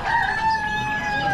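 A rooster at an Amish animal auction crows loud and close in one sustained, slightly falling call over background barn noise.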